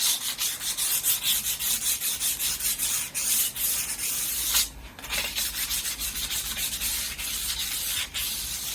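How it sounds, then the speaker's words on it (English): Sandpaper of 320 grit rubs steadily across a rusty steel camper van wheel, a close, continuous scratchy rasp of repeated back-and-forth strokes with brief pauses. "Now I like to use 320 grit to start with, and just gradually start working around, getting all the loose rust bits off."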